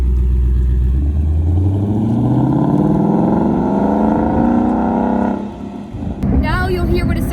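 Exhaust of a Ford Mustang S550 on its stock setup before a straight H-pipe mod, heard as a played-back recording: a deep engine note climbing steadily in pitch under acceleration, then dropping away before a voice speaks.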